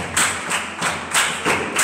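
Congregation applauding at a church service, rhythmic unison clapping in steady beats about every third of a second, loud and close with no speech over it.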